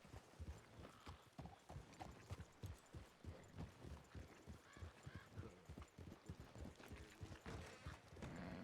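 Horse hooves clip-clop at a steady walking rhythm in Red Dead Redemption 2, the quiet repeated thuds continuing throughout with faint background game noise.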